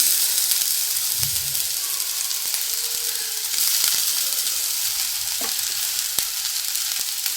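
Cold cooked rice and potatoes frying in oil in a pan at home, a steady close sizzle and hiss with occasional stirring scrapes, no talk.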